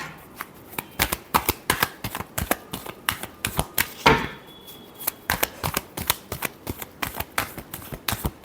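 Tarot cards being shuffled by hand give a rapid series of crisp, sharp riffling snaps, close and fairly loud, repeating in quick uneven bursts with a longer riffle near the middle.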